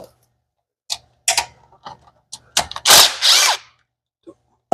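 A ratchet clicks in short bursts on a socket loosening the oil pan bolts of a 1983 Mustang GT Foxbody with a big block, close and sharp, with brief pauses between pulls.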